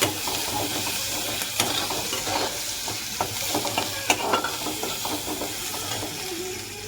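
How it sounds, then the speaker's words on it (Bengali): Onion and garlic frying in a pan, a dense continuous sizzle with occasional scraping stirs and small pops, close up and without speech. "পেঁয়াজ রসুনটা ভালো করে ভেজে নিচ্ছি।"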